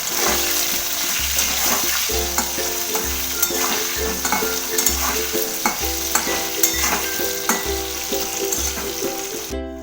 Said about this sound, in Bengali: একটু হলুদ অ্যাড করে দিলাম আলুতে আর একটু লবণ অ্যাড করে দিলাম ভালো করে নুন হলুদ দিয়ে অনেকক্ষণ এটাকে ভেজে নেব